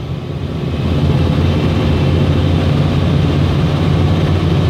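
An engine idling after a cold start, a loud, steady low rumble that holds constant throughout with no voices.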